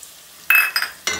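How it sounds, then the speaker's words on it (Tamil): Fenugreek greens and green chilli being lightly sautéed in a pan for a potato masala paratha filling, heard as three short bursts of stirring and scraping with a soft sizzle, close and without talk. "கீரையை கொஞ்சம் லைட்டாக சாட் பண்ணிவிடுவோம், வதக்கிடுவோம் லைட்டாக"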